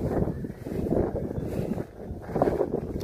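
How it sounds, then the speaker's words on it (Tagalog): Strong wind buffets the microphone on a cauliflower farm with a loud, continuous rumbling roar that surges and eases, no voices present. "Medyo malakas ang hangin."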